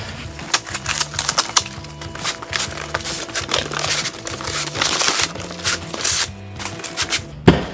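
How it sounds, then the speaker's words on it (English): Cardboard is ripped off the box of a Smittybilt XRC 9,500 lb winch, producing close, continuous crackling, tearing and scraping that runs throughout, with a louder snap near the end. "Now we're just going to rip off this layer of cardboard that is over the original box."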